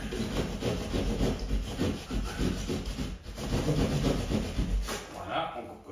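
A utility knife cuts through a board while an invisible attic access hatch is fitted, giving a continuous close scraping and rasping over about six seconds with no talk.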